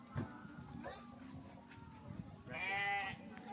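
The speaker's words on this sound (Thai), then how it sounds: "แบะใช่ไหมแกะร้องไง แกะร้องไงลูก แบะ แบะ" A sheep bleats once in a wavering, nasal call near the end, preceded by softer animal sounds and voices nearby at a farm outdoors.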